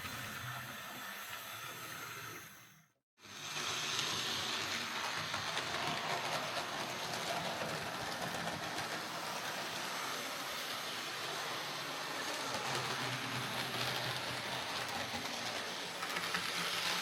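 Model locomotive with an XL3 motor running on DC, giving a steady, fairly loud whirring hiss that cuts out briefly near the start and then resumes.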